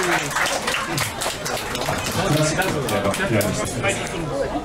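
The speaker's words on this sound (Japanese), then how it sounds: "拍手拍手" A small group claps during a meal in Tokyo, the scattered handclaps mixed with loud chatter, laughter and talking close by.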